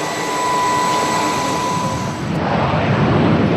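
A presidential jet carrying Nicolas Sarkozy's delegation lands, filling the scene with a loud, steady jet-engine roar that holds throughout, shifting slightly in tone toward the end.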